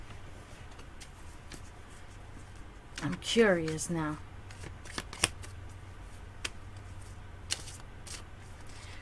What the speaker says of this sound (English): I'm shuffling these cards for you now